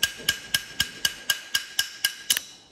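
Sharp metallic taps from a hammer striking the night sights on a Glock 23 Gen 5 pistol slide, about ten evenly spaced hits in a steady rhythm, close and clear with no talking.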